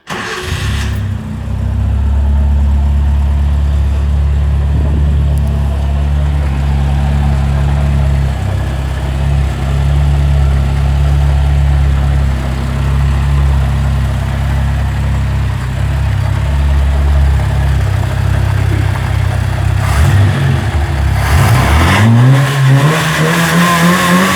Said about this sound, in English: let me start up the Nissan, then I can give you a bit of a idea of the performance wise of that carb modification